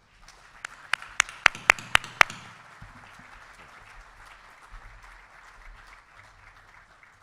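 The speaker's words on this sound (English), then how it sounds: "May we have a final round of applause for our inductees." At a Texas Bankers Hall of Fame gala, a few loud, distinct claps ring out near the start for the inductees, then fade into faint, scattered room noise and a low murmur.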